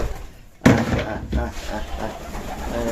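A sudden thump, then pigeons coo softly nearby while a person talks over them.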